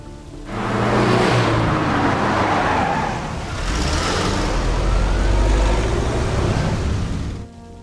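A car in the video game Phantom Doctrine pulls up and arrives, its engine a loud, steady rumble that swells, dips briefly midway, then builds again before cutting off near the end.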